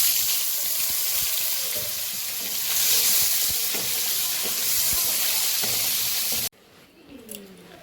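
Papaya pieces and cumin seeds sizzle and crackle steadily in hot oil, a loud, close, dense hiss with occasional stirring clatter that stops abruptly near the end.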